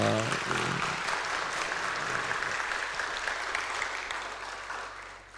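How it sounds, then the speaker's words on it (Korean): A congregation at a Friday prayer meeting claps to glorify God, a full, sustained round of applause filling the room that tapers off toward the end, with a voice briefly heard at the start. "하나님께 영광의 박수 한번 하겠습니다"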